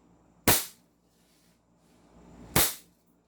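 Two sharp shots from a God Father KP06 airsoft gun, sounding as loud, close cracks about two seconds apart, each with a quick fading tail and quiet room tone between them.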